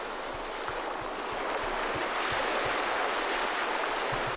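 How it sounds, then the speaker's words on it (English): A sampled ocean-waves sound effect from Splice rolls on as a steady, broad wash of surf, loud and unbroken, with faint low thumps pulsing underneath before it cuts off abruptly. "And then the ocean sound"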